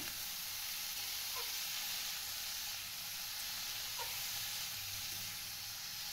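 Boiled banana flower frying with spices in a pan for a Bengali mochar ghonto gives off a steady, even sizzle that holds for about six seconds, with no voices over it.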